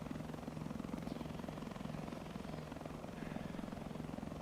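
Helicopter in a video game, a steady, fairly quiet rotor drone with rhythmic chopping that holds constant throughout, with no talk over it.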